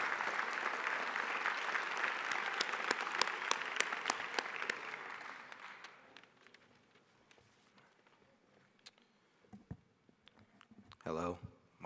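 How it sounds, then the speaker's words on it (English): Audience at a college honor society induction ceremony breaks into applause that holds strong for about five seconds and then thins into scattered claps and shuffling, with footsteps and a brief voice near the end. "Please give a round of applause."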